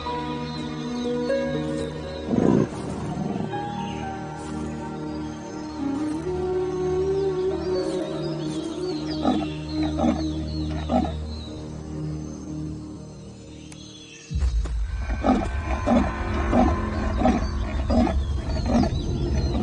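A lion roars loudly several times, deep drawn-out bellows with pauses between them, while crickets and distant birds fill the background.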